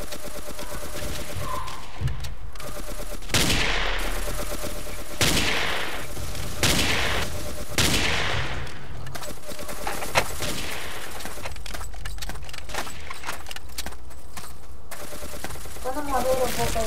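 Rifle fire in the blocky shooter game Ace of Spades, with sharp shots spaced several seconds apart over a busy background of rapid gunfire, and a voice talking throughout.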